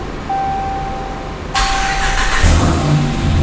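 A RAM 1500 pickup with a swapped-in Hellcat engine starts: a steady whirring crank with a thin whine, then the motor catches and settles into a loud, close, rumbling idle.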